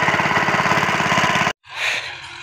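A generator pumping water to a tap chugs loud and close with a fast, even pulse, then cuts out abruptly before a softer rushing noise follows.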